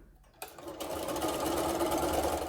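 A sewing machine stitches quilt rows together, starting up after a brief quiet moment and then running at a steady, close, even whir.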